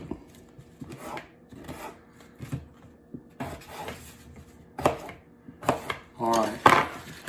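A knife cuts potatoes on a board for stuffed bell peppers, with a scattering of short, close chopping taps and scrapes at an uneven pace that grow louder toward the end.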